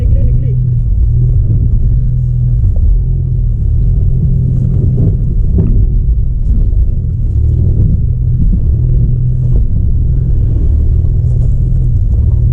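A Volkswagen Polo GT's engine rumbles low and steady as the car fords a river, a continuous muffled drone with water and cabin noise and no clear revving.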